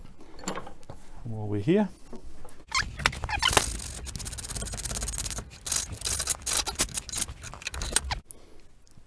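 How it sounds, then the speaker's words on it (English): A metal file rasping on a lug terminal made from old copper pipe, in rapid uneven scraping strokes close by, with someone speaking briefly at the start. "We need to neaten that up with a file a little bit"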